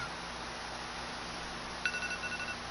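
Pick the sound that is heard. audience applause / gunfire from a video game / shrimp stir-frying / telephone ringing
telephone ringing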